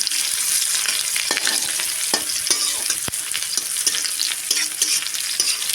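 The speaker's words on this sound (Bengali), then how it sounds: "ফোড়নটা ফুটে গেছে, দিয়ে দিব পেঁয়াজ কুচি" Chopped onions fry in oil after a tempering with bay leaf, giving a constant close sizzle broken by scraping stirs and a few sharp spoon knocks, with no voices.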